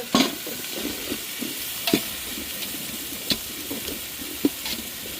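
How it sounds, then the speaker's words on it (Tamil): Chopped onions sauté with spices in a pan for chicken biryani, a steady close sizzle broken by sharp clinks and scrapes as a spoon stirs them every second or so. "வெங்காயம் எல்லாம் போட்டு நல்லா வதக்கி கொண்டிருக்கிறோம்"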